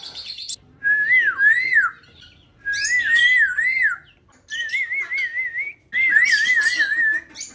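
A pet budgie whistles four separate warbling, wavering phrases, each lasting about a second, with short pauses between them. The whistling is close, clear and loud, with no talk.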